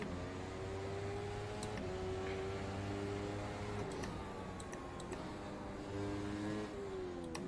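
McLaren MP4-30 Formula One engine in a racing simulator at the Nürburgring, a sustained high-pitched whine rising in pitch and dropping sharply at each of several quick upshifts, steady and prominent.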